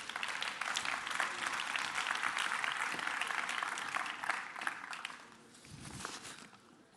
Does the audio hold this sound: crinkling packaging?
no